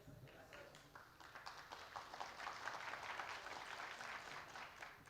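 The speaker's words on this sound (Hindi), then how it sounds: "ये जो आप लोग ताली मारा ना" A crowd applauds at a student gathering, a dense, steady wash of many hands clapping that swells slightly toward the middle and holds for the whole stretch, with some voices mixed in.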